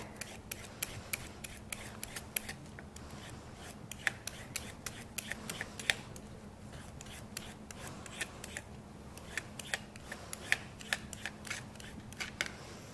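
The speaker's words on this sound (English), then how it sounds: "And then I'm peeling down the stalk." Broccoli stalk being peeled down with a knife or peeler, giving repeated short scraping and rasping strokes close up, steady and fairly quiet, with a faint hum underneath and no talking.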